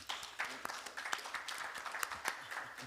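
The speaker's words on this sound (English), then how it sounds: "Can we give one more round of applause to each of our presenters?" A faint round of applause from an audience at a conference session on chaplains and religion, scattered clapping heard at a distance with individual claps poking through a soft, thin wash.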